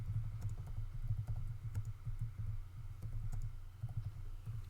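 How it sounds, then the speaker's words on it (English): Someone types a tweet on a computer keyboard: a steady, close clatter of rapid keystrokes with brief pauses over a low background hum, no one speaking. "I'm typing my tweet and there's fucking typos"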